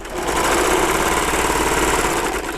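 A Baby Lock serger overlock machine sewing threads out runs at speed, a loud steady rapid whirring chatter that holds evenly for a couple of seconds with no talking.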